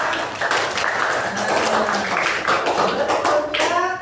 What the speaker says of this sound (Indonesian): Oke, kasih tepuk tangan dulu untuk kelompok singa.